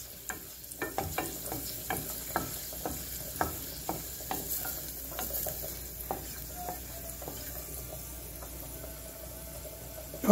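Rice being stirred and fried in a pan at home until yellowish, with a continuous soft sizzle and repeated scraping stirs, fairly quiet and close, with no talking.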